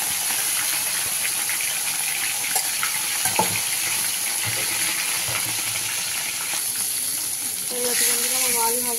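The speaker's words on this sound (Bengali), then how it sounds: "এই আছে বন্ধুরা আমার মাছ ভাজা" Fish rubbed with salt and turmeric frying in hot oil, a continuous loud sizzle with scattered crackles and clinks, a voice briefly heard near the end.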